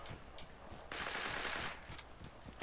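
Rapid automatic gunfire in the battle royale video game Creative Destruction, a burst of quick shots followed by a longer continuous stream of fire, fairly faint and distant in the game mix.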